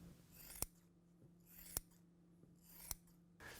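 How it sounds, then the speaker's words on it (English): Four crisp scissor snips in a slow, even rhythm, each a sharp close-up cut through carbon fibre cloth with quiet gaps between. "Carbon fibre cuts really easily with any good quality shears or scissors."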